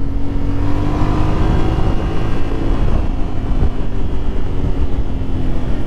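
A Yamaha Tenere 700 motorcycle cruising on an open road, its engine droning steadily at close range under heavy, constant wind rush with a faint shifting engine tone.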